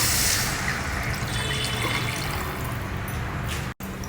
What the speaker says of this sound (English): Next, add in this tamarind water.